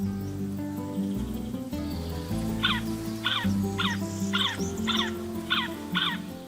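A great spotted cuckoo, larger than the common cuckoo, gives a run of about seven short, repeated harsh calls at a steady rhythm, moderately near, over a low, continuous background hum.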